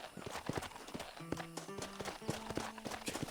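Horse hooves clip-clopping in a steady riding rhythm in the Red Dead Redemption game, close and clear, with brief whinnies and tonal game sounds over them.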